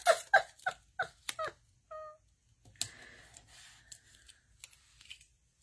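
Scissors snipping washi tape for card making, a quick series of sharp, close, quiet cuts followed by a short pause, then a few softer rustles and clicks.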